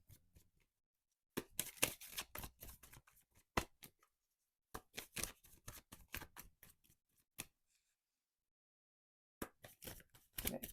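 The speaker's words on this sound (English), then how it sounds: "Good old shuffle." Tarot cards shuffled by hand in quick papery riffling bursts, close and fairly quiet, separated by short silent pauses, with no talk over them.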